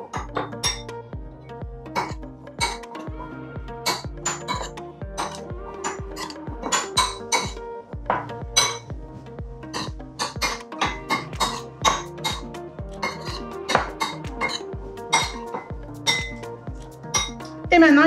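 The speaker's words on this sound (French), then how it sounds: "On va prendre 3 cuillères pour pouvoir bien mélanger. S'assurer que tous les pois chiches sont enrobés d'huile et d'épices." Spoons clink sharply and irregularly against a bowl while chickpeas are tossed with oil and spices, a quick run of close metallic taps with an occasional cough.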